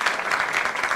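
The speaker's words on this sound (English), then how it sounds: "give yourself another round of applause" Audience applause at a university town hall meeting, a brief burst of steady, moderately loud clapping from a room full of people.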